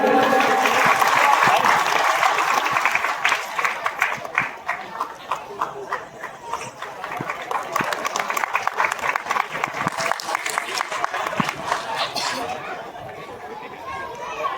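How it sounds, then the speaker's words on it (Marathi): Audience clapping at a ceremonial welcome event, bursts of applause rising and falling in uneven waves with crowd chatter and voices mixed in, thinning toward the end. "जोरदार टाळ्या होते"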